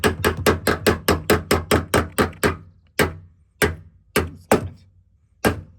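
Hand smacks seat a GT3 smile vent into the front of a Porsche 987 Boxster: about a dozen sharp, loud thumps in a quick run, then five more spaced-out blows, all close by and with no talking.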